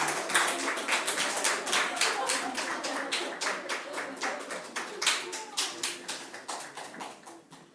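A church congregation at a Sunday service bursts into a long run of steady, rhythmic clapping that fills the room and slowly tapers off.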